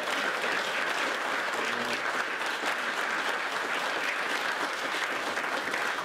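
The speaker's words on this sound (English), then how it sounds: "Round of applause" A crowd at a congressional candidate forum gives a round of applause, continuous dense clapping at steady volume throughout.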